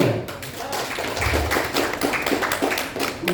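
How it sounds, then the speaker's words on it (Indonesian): A crowd claps together in a steady, dense burst of applause lasting a few seconds, fairly close and lively. "Tepuk tangan dulu dong."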